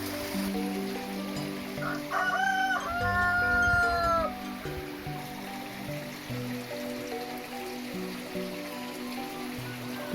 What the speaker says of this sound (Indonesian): di dalam jamban ada bebek, entog, sama ayam